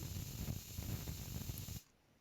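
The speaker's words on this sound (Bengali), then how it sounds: "দেখুন আমাদের সিটি পড়ে গেছে।" Steam hissing out of a pressure cooker whistle, a fairly soft, continuous spraying rush with faint rattling that stops abruptly toward the end.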